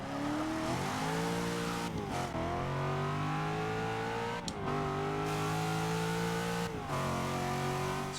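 Cadillac CTS-V Sedan in Forza Motorsport 6 revving hard through a lap, with a loud, sustained engine whine that climbs and drops at several gear shifts and no talk.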